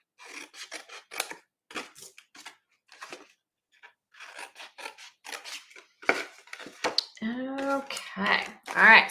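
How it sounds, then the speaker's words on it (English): Scissors snip along score lines in paper, angle-cutting tabs for a dinosaur craft box, giving a series of short, close cutting strokes followed by a louder, busier stretch near the end with a voice briefly sounding. "So we're going to cut up the score lines again. I'm going to angle cut."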